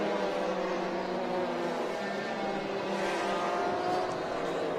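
Porsche Carrera Cup race cars at Rennsport Reunion VI, climbing toward the Corkscrew, produce a steady, loud engine roar that swells slightly as cars pass, with no talk over it.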